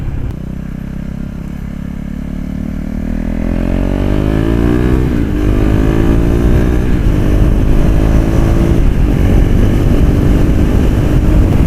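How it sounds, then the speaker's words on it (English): A KTM 390 Duke with an Akrapovic titanium slip-on exhaust rumbles loudly and close, its deep growl building as the engine revs up and pulls through rising gears. "there's really nothing much to say about this exhaust. It just sounds so good."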